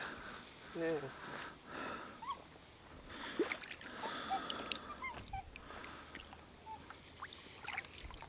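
A dog whimpers and yelps briefly amid outdoor noise and splashing by the Western Bug river, with people talking nearby.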